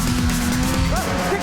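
Drakkar buggy powered by a 600cc snowmobile engine drives past with a steady motor drone and a brief tire squeal, loud and close.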